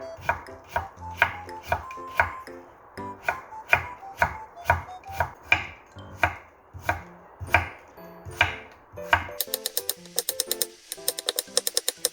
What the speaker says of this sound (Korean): 또 도마 한번 썰어 봐야죠.